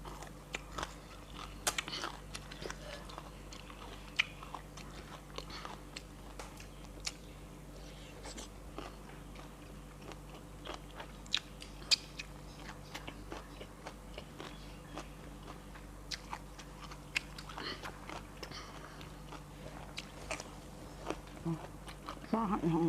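Crispy fried dried stingray is chewed and bitten in a quiet setting, giving soft, irregular crunches scattered over about twenty seconds against a faint background hum.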